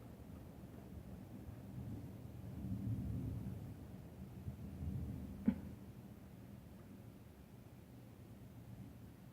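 Thunderstorm on a Saturday evening during a heavy downpour: steady low rumbling rain and wind noise with a swelling roll of thunder and one sharp crack near the middle, no talking.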